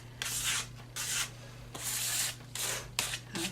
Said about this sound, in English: so there's scraping with the paint